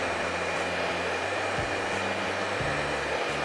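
A hot hair dryer blows steadily while a brush styles a quiff haircut. The motor whirs loud and close, with its pitch briefly dipping twice as the airflow shifts.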